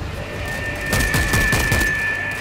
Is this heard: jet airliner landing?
no